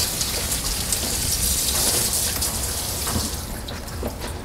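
Running water rinsing fruits or vegetables in a collapsible colander, a steady close splashing patter that eases slightly toward the end.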